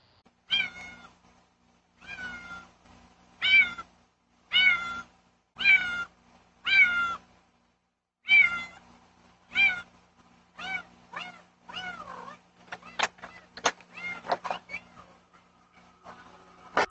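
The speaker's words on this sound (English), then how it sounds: "I heard her meowing from my sleep." A cat meows repeatedly outside a home at night, captured by a Ring doorbell camera, with about a dozen distinct calls in an uneven rhythm that get quicker and shorter toward the end against a faint steady hum.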